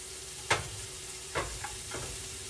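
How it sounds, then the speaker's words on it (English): Onions saute in vegetable oil in a pan, giving a gentle steady sizzle with a few distinct scrapes and taps of a utensil spaced apart, near and quiet, no speech. "I want to put the onions in first and let these onions just saute in there."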